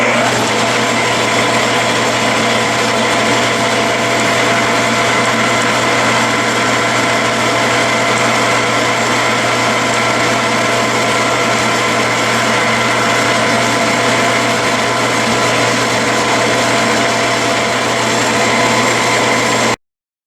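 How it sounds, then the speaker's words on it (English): A Clausing lathe knurls cold rolled steel with a knurler, oiled, giving a steady, loud, unbroken machine whir and grinding hum that runs evenly with no pauses and no voices. "Next, I'll give it a try in cold rolled steel, and I'm using the same RPM and feed rate and oil."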